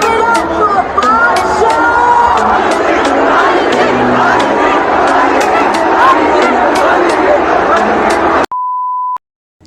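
A large crowd at a concert chants a performer's name, a loud continuous roar of massed voices with repeated sharp accents, ending abruptly in a steady electronic beep tone.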